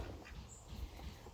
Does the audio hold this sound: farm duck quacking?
yes